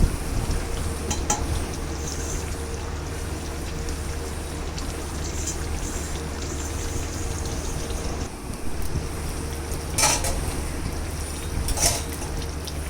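A spoon stirs chicken and potato curry in a pot: a steady close sizzle and bubbling with occasional soft scrapes and clinks against the pot.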